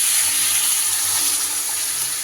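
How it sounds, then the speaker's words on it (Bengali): Water poured into a cooking pot for a Bengali neem and vegetable curry, a steady, continuous rushing splash heard close up with no talk. "এইবার আমি দিয়ে দেব পরিমাণ মতো জল"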